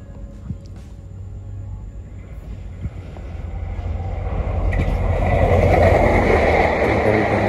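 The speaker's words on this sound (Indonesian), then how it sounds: "kereta api bandara yang melintas di depan kita" An airport train approaches on the railway and passes close by, its rumble and wheel roar building from a low hum into a loud, sustained rush of rolling noise.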